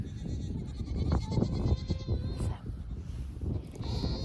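Goats bleat nearby on a farm, several short cries overlapping a busy, rustling background.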